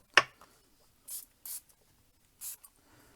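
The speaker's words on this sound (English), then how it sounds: "I am going to spray my paper." Three short, breathy hisses of a spray bottle misting paper, evenly spaced, after a brief tap at the start; otherwise quiet.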